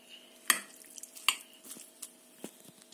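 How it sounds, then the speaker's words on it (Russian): A spoon clinks and scrapes against a bowl while crab stick salad is mixed with mayonnaise, giving a few sharp knocks and soft wet stirring sounds, close and quiet. "Перемешиваем."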